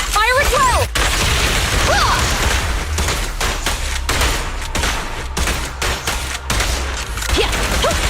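A gunfire volley in the video game Zenless Zone Zero, loud sharp bursts of shots and heavy booms in quick succession, with brief gaps and some voices mixed underneath.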